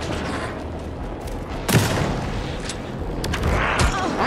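Loud gunshots burst out amid a dense, noisy Alan Wake 2 game soundscape on PS5, several blasts and rumbling booms scattered over a few seconds.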